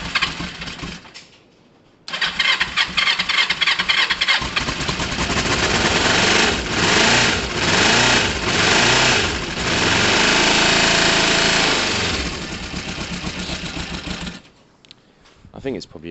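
Kawasaki Thundercat motorcycle with a replacement carburetor cranks, then starts and settles into a loud, rough, busy idle for about twelve seconds before cutting out, heard close.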